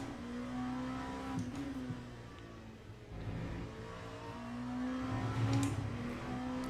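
A race car laps Laguna Seca in the Le Mans Ultimate sim racing game, its engine a steady droning whine that rises and falls in pitch through gear changes, with no talking.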